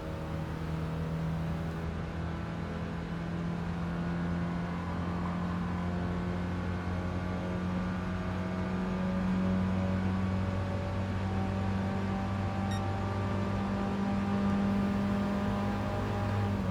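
A Classic Mini in GT Sport held at full throttle down a straight, its engine a steady, loud drone with sustained harmonic tones that rise slightly in pitch, with no talking.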